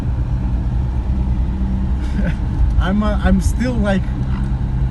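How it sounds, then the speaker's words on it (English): A LADA VAZ 2106 Soviet car cruises in the middle lane of a highway at about 60, giving a steady low engine and road rumble from inside the cabin while someone talks over it partway through. "I'm very concentrated on driving right now."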